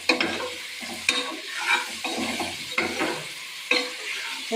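Mutton chops stirred with powdered salt and turmeric in a frying pan, Maratha style: repeated scraping stirs over a steady close sizzle, with a few louder knocks against the pan.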